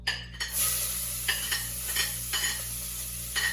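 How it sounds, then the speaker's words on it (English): Garlic sizzles in a pot at the start of Filipino chicken soup, a bright steady hiss broken by a few quick spoon scrapes and clinks against the metal, close up and with no voices. "So I'm going to chuck in the garlic first and let that go brown."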